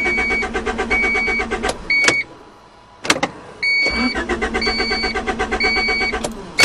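A 1991 Honda Accord engine cranks in rapid rhythmic bursts from the starter, pauses, sputters briefly into firing, then cranks again in a second long burst, loud and close.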